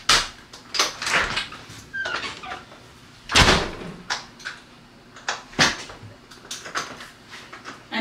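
A household door that isn't sealing properly is slammed shut several times; sharp, loud bangs come at irregular intervals with quieter rattling and handling noise between them.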